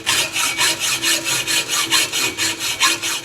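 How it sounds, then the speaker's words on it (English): A hacksaw cuts through an M4 Street Slayer carbon slip-on exhaust pipe for a 2015-2017 Yamaha R3, its rasping strokes loud, close and evenly paced, about a dozen back-and-forth pulls with no talking. "I'm going to be hacksawing away"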